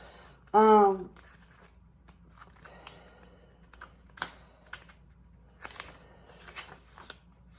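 Typing on a computer keyboard, heard as scattered soft, uneven key clicks while someone looks up a vampire card, with a brief loud vocal burst near the start.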